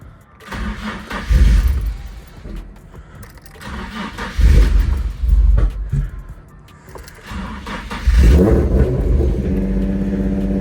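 A car engine, with its sensors just refitted, cranks and catches, then revs in three loud, close surges with idling rumble between them, and no voices.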